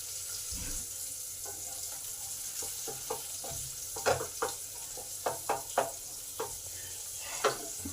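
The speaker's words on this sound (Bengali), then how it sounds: "পেঁয়াজটা এই দিকটা ভাজা হোক, ততক্ষণ ডিমটা আর একদিকে ভেজে নিই।" Egg and onion fry side by side in a pan, a steady soft sizzle with scattered light clicks and scrapes of stirring, close and fairly quiet.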